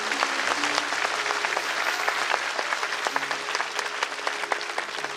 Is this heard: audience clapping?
yes